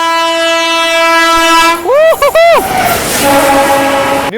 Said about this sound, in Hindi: इधर से आ गई बैंगलोर राजधानी गजब की रफ्तार में